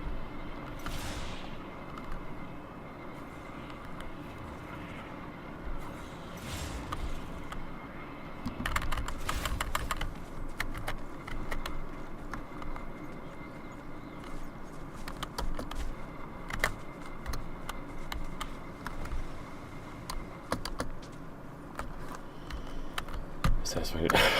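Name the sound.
typing on a SteelSeries computer keyboard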